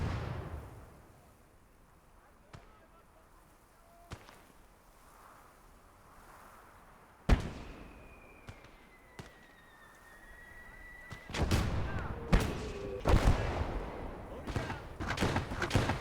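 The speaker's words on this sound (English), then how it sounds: "They have heavy artillery somewhere." Heavy artillery rumbles through a Normandy street-fighting video game: scattered sharp booms at first, then a dense, loud stretch of rapid overlapping blasts.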